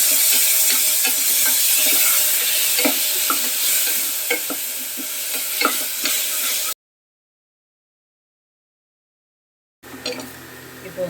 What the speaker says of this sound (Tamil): நான் தக்காளி வந்து அடித்து வச்சுருக்கேன், அதை ஊற்றிக்கலாம்